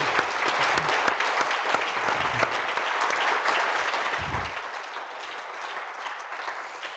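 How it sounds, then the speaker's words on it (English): An audience at a lecture applauds: steady, dense clapping from many hands fills the room, holding strong for several seconds before easing slightly toward the end. "you should have another round of applause spontaneously for that"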